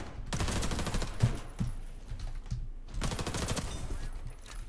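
Cobalt Kinetics Stealth Pistol in Warface, fired in two long rapid bursts of closely spaced shots with a short gap between them, loud and close.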